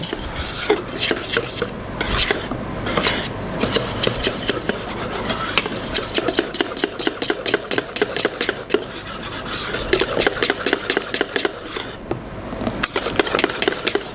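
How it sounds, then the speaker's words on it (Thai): Banana chocolate chip muffin batter is stirred in a bowl, a steady close scraping and rasping of a utensil against the sides, with repeated rhythmic strokes throughout. "แล้วเราก็คนค่ะให้ส่วนผสมเข้ากัน"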